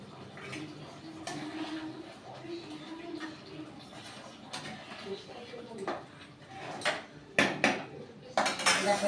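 Fish curry (fish kalia) being ladled onto a plate, with clinking metal utensils and dish knocks, soft liquid sounds and louder clatters near the end; a voice is faintly present.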